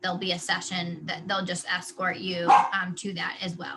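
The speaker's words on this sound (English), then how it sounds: "that's my dog in the background" A dog barks repeatedly in the background with short yips, under a person talking steadily in the foreground of an online webinar.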